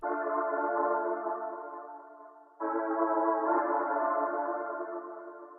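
Lush synth chords from Cymatics stems sound on their own, one rich sustained chord fading gradually before a second chord enters sharply and swells, then decays.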